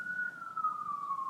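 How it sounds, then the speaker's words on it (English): An emergency vehicle siren wails outside, a single drawn-out tone gliding slowly downward as it passes at a moderate distance, heard alone with no talk. "Lots of sirens right now."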